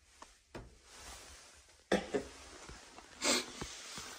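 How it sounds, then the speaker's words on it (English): A person sniffling in a cold room of an abandoned 1980s luxury house, three short close sniffs spaced a second or so apart over quiet room tone, with no talk. "Sorry for the sniffles, guys."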